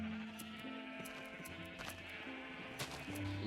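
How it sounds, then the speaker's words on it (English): Sheep bleat during a Minecraft survival game session, short game-style cries repeating at intervals over a steady bed of background music. "I'm going to start off by shearing the sheep"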